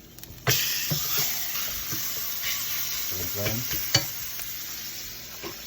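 Seasoned stew meat sears in a hot pan, a sharp sizzle that starts abruptly and holds steady, broken by a few scraping stirs and knocks, close and without speech.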